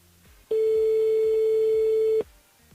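A telephone ring tone on the line as a radio studio dials a listener: one long, steady electronic tone lasting under two seconds, loud and clean, with no talk over it.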